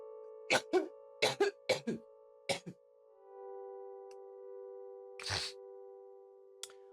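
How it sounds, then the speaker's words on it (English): A burst of several sharp coughs in quick succession, then a pause over a faint steady hum, followed by one more harsh cough and a short final one. "I had a coughing fit there"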